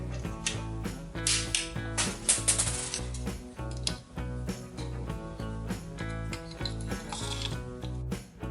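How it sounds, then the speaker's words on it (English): The mechanism of a Perfecta Mod. G miniature .22 semi-auto pistol, partly disassembled, cycles spent cartridges, a close, dense run of clicking, ratcheting metal clatter with steady rhythmic pulses. "I think it is possible to fire it while disassembled."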